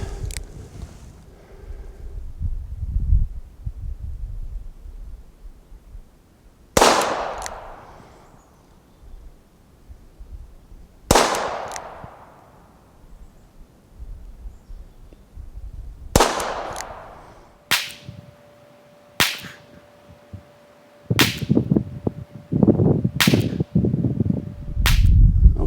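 Smith & Wesson 317 .22LR revolver fired at a 10-yard target in an eight-shot string; sharp, cracking reports come singly with pauses of a few seconds, then faster near the end, loud and close with brief decays.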